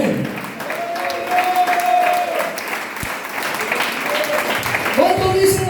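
Church congregation applauding during a Spanish-language sermon, a steady wash of clapping from a crowd that swells and holds for several seconds, with a preacher's voice and brief vocal tones riding over it.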